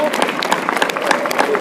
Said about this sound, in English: So let's give a big round of applause to the donors that we have.